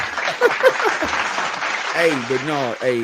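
Recorded applause from a sound effect button plays under someone talking and laughing, a steady patter of clapping that fills the background.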